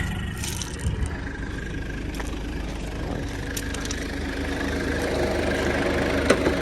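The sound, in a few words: 1996 Mitsubishi Delica L400 turbo engine idling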